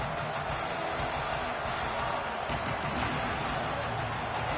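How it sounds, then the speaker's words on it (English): Stadium crowd noise from a football video game forms a continuous, dense roar with swelling cheers, steady and loud throughout without a break. "This crowd ready to make its presence known."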